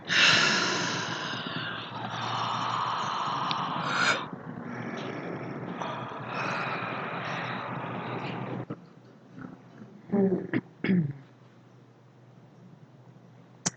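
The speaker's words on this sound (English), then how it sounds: "let's take a moment again and let's yawn and stretch" A congregation at a spiritual living service yawns and sighs aloud together for about eight seconds, a loud, full, overlapping group sound, followed by scattered quieter breaths and soft sighs.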